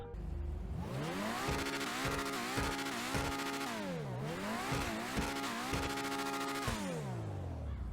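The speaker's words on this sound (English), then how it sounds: "It does have a pretty unique engine sound" An Overflod Autarch sports car engine in the video game GTA Online revs and shifts through gears repeatedly, pitch climbing and falling in a loud, continuous roar with no talking.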